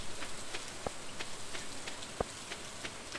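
Soft, steady rain from the video game Stardew Valley patters in a continuous hiss, with a few sharper droplet clicks standing out against the quiet, even wash.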